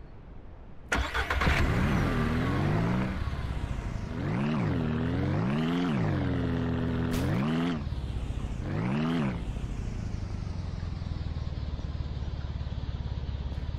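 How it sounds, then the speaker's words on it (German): A vehicle in the farming game Ranch Simulator starts up and drives, its mid-pitched engine rising and falling through several rev surges before settling into a steady run, loud and close with no talking. "Wir fahren jetzt ein Stück vor."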